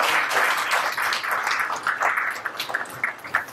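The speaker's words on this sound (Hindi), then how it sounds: "जोरदार तालियां" During a motivational seminar, an audience breaks into vigorous applause, a full, steady wash of clapping that gradually thins into scattered individual claps toward the end.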